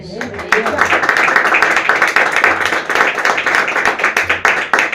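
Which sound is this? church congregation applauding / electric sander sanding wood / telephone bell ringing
church congregation applauding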